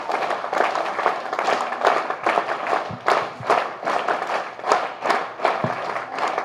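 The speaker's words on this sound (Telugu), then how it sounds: "మీ అందరూ కూడా క్లాప్స్ గో" Students in an audience clap in applause after a speech. The dense, continuous patter of many hands keeps going for several seconds, with a few sharper claps and thumps standing out.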